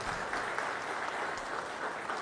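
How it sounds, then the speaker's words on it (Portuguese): An audience at a ceremony conferring honorary citizenship in Goiânia applauds steadily, a dense, even wash of clapping hands filling the whole moment without a break. "Vamos dar uma salva de palmas ao nosso Itamar."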